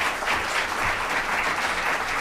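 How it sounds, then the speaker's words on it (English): A seminar audience applauds a speaker at the close of a talk on classical Sparta, giving steady, dense clapping from many hands that holds at an even level for about two seconds. "round of applause for our speaker."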